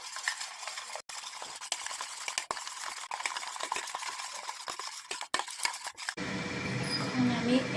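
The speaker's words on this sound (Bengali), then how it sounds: "এটাতে একটু জল দিয়ে আমি ভালো করে এটাকে আমি ফেটিয়ে নিব।" Yogurt and water being whisked in a bowl for doi begun, close and steady, with continuous scraping and stirring broken by a few sharp clinks of the utensil against the bowl.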